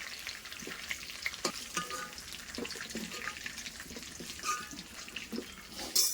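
Continuous crackling sizzle of chicken pieces deep frying in hot oil, with occasional sharper pops and clinks, fairly close and steady throughout.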